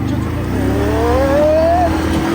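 A quad bike's engine revs up hard at speed toward a big puddle, a loud, close whine climbing steadily in pitch with a voice talking over it.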